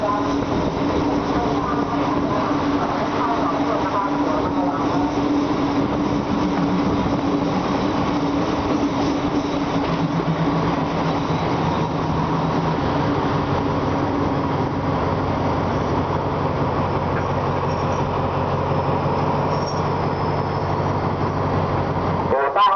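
A Thai ordinary passenger train pulls into Rangsit station, its steady rumble and rolling wheel noise continuous throughout with a sustained horn-like tone; station announcements on a public address system run over the train noise.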